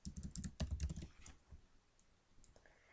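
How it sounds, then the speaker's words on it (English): Quick, light clicking of typing on a computer keyboard, a burst of keystrokes close by that thins out into a few scattered taps, faint overall with no speech. "you will just begin to type the name of your venue"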